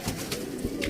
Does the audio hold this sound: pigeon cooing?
yes